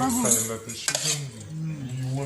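A spoon scrapes and clinks against a bowl while lime pickle masala is mixed with tempering, a close, continuous stirring and scraping with a sharper knock partway through.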